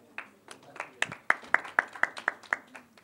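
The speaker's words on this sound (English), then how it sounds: "So a huge round of applause to all the designers" At a fashion week press conference, a few hands clap close to the microphone in a sparse, irregular run that settles into sharp, evenly spaced claps at about four per second.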